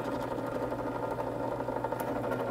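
A pivot hole is drilled through a slip joint pocket knife blank pinned and taped together, giving a steady, continuous mechanical whir close by with no talking.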